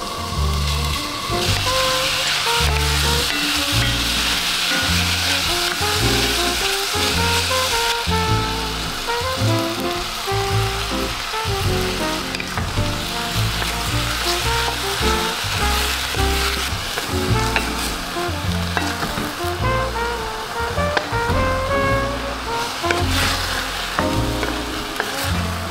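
Pork fries in sesame oil with garlic, giving a loud, dense, continuous sizzle close by, with stirring scrapes mixed into the crackle throughout.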